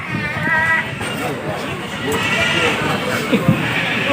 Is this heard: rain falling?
no